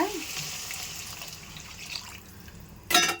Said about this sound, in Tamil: இப்போ தண்ணி ஊற்றிக்கலாங்க.